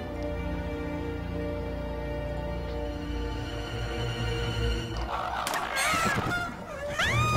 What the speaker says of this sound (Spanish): ¿Un cuervo? Madre mía, el ataque los cuervos.